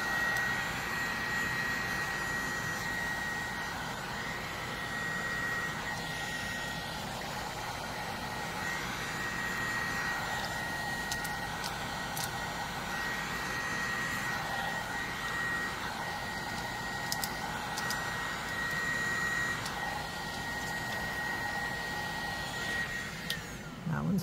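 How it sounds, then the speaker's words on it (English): Heat gun blowing over a resin coaster: a steady, fairly loud whirring airflow with a high tonal whine runs unbroken throughout, swelling slightly as the gun is swept back and forth, with a few faint clicks. "Because your heat gun gets really hot."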